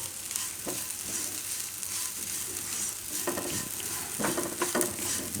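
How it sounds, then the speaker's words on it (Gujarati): Roasted coconut and sesame seeds are stirred in a pan. A spoon scrapes and turns them in soft repeated strokes over a light, steady sizzle, with no voices. "થોડીક વાર ફેરવી લેવાનું એને."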